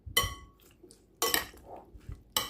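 Utensils toss a vegetable salad in a bowl, giving three sharp metallic clinks and scrapes spaced about a second apart, close and distinct against near silence.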